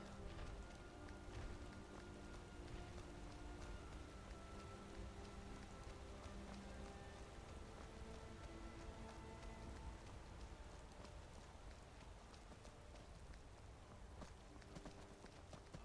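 Rain falls in the video game Skyrim, a steady, hissing patter that holds level throughout, with soft rhythmic hoof-like clopping beneath and a low game music drone.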